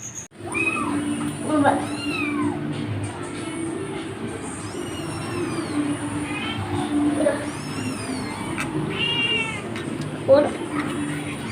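A kitten gives several short high meows scattered across a continuous low background rumble, close and fairly clear.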